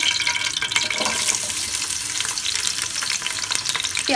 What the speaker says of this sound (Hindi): प्रेशर कुकर में डालेंगे हाफ प्याली घी और इसमें अब हम शामिल कर देंगे प्याज